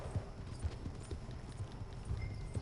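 Horse hooves clip-clop at a steady walking rhythm in the video game Red Dead Online, soft and fairly faint, against a low background murmur.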